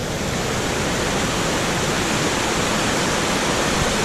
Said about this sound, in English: let's cross this creek